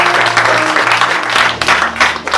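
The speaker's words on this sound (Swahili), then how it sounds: "Piga makofi mazito kwa Yesu." A church congregation at a Sunday worship service applauds loudly, a dense burst of many hands clapping that rises and falls in waves.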